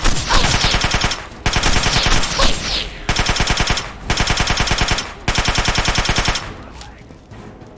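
Rapid automatic gunfire from Sydney's gun in Fallout 3, several loud sustained bursts separated by brief pauses, with a trailing burst near the end.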